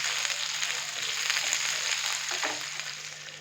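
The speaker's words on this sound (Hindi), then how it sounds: "प्याज डालने के बाद हम 2 मिनट के लिए प्याज को हल्का सा फ्राई करेंगे ताकि प्याज थोड़ा सा नरम हो जाए।" Chopped onions frying in a pan for a Madras masala chicken curry, giving a steady, close hiss of sizzling oil with faint stirring scrapes and no voices.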